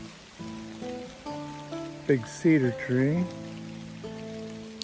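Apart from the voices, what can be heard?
rain falling on hiking trail under cedar tree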